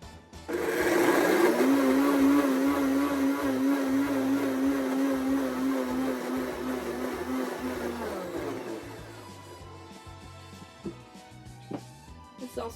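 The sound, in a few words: blender mixing chocolate pots de crème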